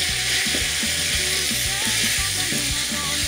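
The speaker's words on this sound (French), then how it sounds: "Bien sûr, on va bien mélanger tout ça." Crushed spices being stirred into oxtail curry frying in a pot, a constant bright sizzle with regular scraping stir strokes beneath it, fairly close.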